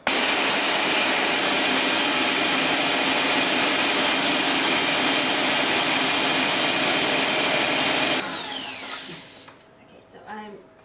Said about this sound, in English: I will need to beat the egg whites